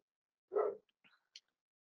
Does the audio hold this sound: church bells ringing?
no